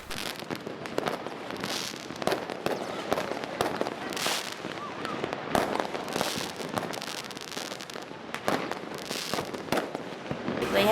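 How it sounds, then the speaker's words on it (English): New Year fireworks and firecrackers in the Philippines burst continuously, a dense rattle of sharp cracks and pops at varying distances with no pauses, rising louder at the end. "There are so many fireworks set off by rich and poor."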